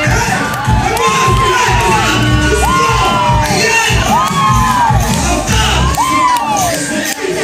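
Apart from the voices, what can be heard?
wedding guests applauding and cheering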